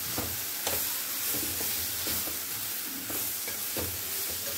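Curry leaves sizzle in hot tadka oil while a hotel-style dosa chutney is made, a steady close crackle running throughout with periodic louder stirring scrapes and clinks.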